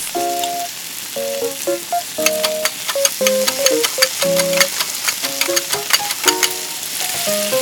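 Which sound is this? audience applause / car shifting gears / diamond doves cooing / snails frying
snails frying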